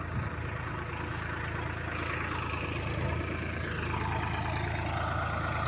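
A Sonalika DI 35 tractor hitched to a fully loaded potato trolley idles at the foot of a steep climb, its engine giving a steady, continuous low rumble close by, with no talk over it.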